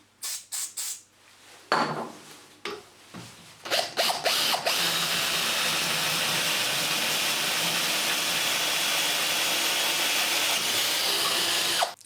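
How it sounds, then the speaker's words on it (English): Drilling through angle iron with a 13mm bit: a few short motor bursts and stops while the bit seats, then a long, loud, steady grinding whine as it cuts through the steel before cutting off. "And then finally we're going to go through with a 13mm drill bit."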